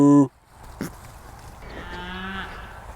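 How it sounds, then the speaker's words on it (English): Cows moo at a childhood home farm, a drawn-out lowing call rising toward the end after a brief loud burst at the start, fairly close and heard alone with no talking. "Are those cows? Yes. Oh la vache! We lived with cows?"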